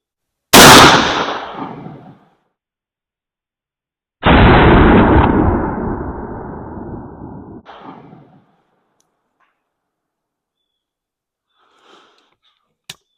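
Two loud 12 gauge shotgun slug blasts at an outdoor range, each a sharp boom with a long rolling echo, the second reverberating for several seconds, followed by a faint clink near the end.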